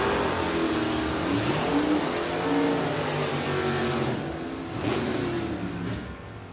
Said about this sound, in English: Ryan of Vanderland's 74 Camaro will run in with Don Turks, the T37, the rare bird race car